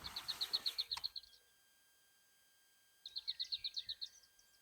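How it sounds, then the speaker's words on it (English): A lesser whitethroat sings in the nearly-dawn spring chorus, giving two short bursts of fast, repeated dry notes separated by a few seconds of quiet, clear and fairly close. "I haven't heard a lesser whitethroat for ages."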